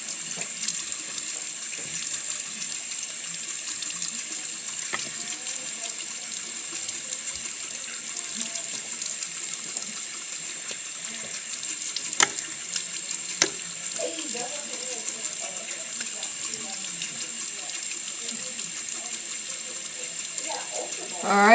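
Hot tap water runs steadily while scrub beads are rinsed off skin, a continuous close hiss with occasional small splashes and clatters, no one speaking.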